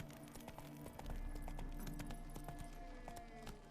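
Hooves of Geralt's horse Roach clip-clop at a steady galloping rhythm in The Witcher 3: Wild Hunt, sitting close and moderately loud over a low music and ambient bed.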